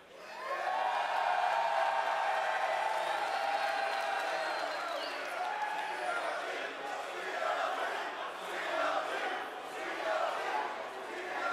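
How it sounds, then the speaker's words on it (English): An arena crowd at esports finals between TSM and CLG chants and roars in sustained waves, loud and massed, with a rhythmic pulse to the shouting and no clear speech over it. "TSM taking the chant over the North American favorite coming into this tournament"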